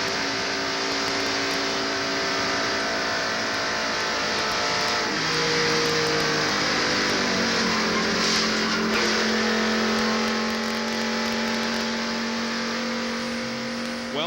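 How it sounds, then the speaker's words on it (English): NASCAR race car at Daytona heard from inside the car during a crash, a loud continuous engine drone with shifting pitch as the car slows and recovers, plus tire scrubbing and scraping noise. "Here's from inside Jeff Bodine's car, and here are 2 cars involved in the crash."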